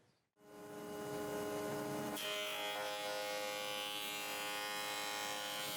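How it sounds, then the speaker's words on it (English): A Record Power PT260 planer thicknesser face planes a wood offcut, its motor whining up to a steady loud hum and the cutter block adding a harsher, brighter rasp as the timber feeds through, running continuously with no talk. "So here I'm face planing an offcut"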